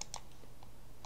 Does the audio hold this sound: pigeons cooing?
no